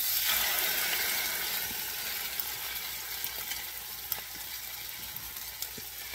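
Potatoes frying in hot oil in a pan for ham hash and hashbrowns, a loud bright sizzle that starts strongly and settles, with a few small pops and clicks, close up.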